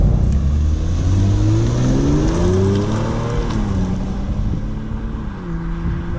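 A loud Kia Stinger GT engine revs and pulls away from a standstill, pitch climbing through several gear shifts before settling into a steady drone.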